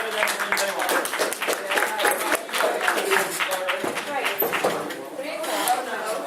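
An audience at a Celtic festival performance claps, brisk rhythmic clapping mixed with crowd noise and voices throughout, fairly close and steady.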